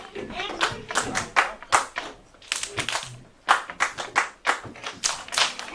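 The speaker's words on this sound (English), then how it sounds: "Clap one time." Kindergarten children clap in a classroom, giving sharp, close hand claps in short bursts and single hits, loud and crisp, with a teacher's voice and children talking in between.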